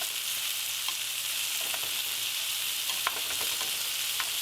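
Honey BBQ chicken pieces sizzle steadily in a hot pan, with soft scrapes and taps as pieces are flipped and stirred, close and continuous with no talking.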